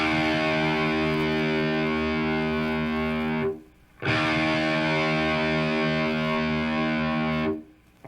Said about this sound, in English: I'm going to start by playing through my individual strings, and I'm going to start with the thickest string on the guitar.